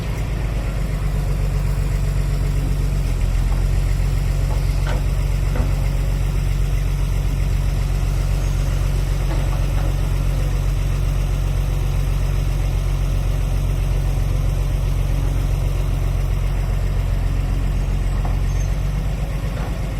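A heavy excavator diesel engine idles steadily close by, a constant low rumble with faint metallic clinks and no voices.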